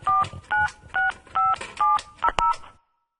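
A telephone is dialed by keypad, giving a quick series of about eight short, even touch-tone beeps, near and clear, with a few rapid final presses before silence.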